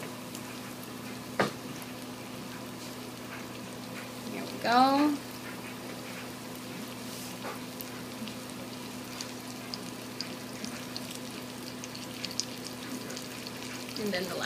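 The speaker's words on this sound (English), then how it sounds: "Great sizzle." Steady frying sizzle of croquettes in oil runs throughout, a soft hiss over a low hum, with brief speech and a clatter near the middle.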